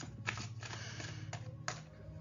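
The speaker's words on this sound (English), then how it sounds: "Spirit says stop shuffling." Tarot cards are shuffled in quick, soft riffles with a few sharper snaps between them, quiet and close over a low steady hum.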